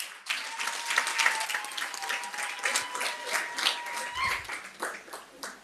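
Applause at a graduation ceremony, a quiet, uneven patter of clapping that swells and dips in waves, with a faint steady tone running beneath it.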